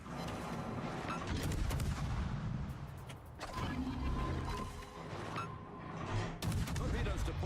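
Warship guns firing on an enemy ship in a naval video game, a dense run of booming salvos and rumbling gunfire at fairly low level, with a player talking over it.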